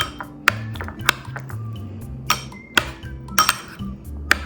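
Boiled eggs being chopped and mashed in a bowl with a metal utensil: a string of sharp clinks and taps against the bowl, irregular and close, with quiet scraping between the hits.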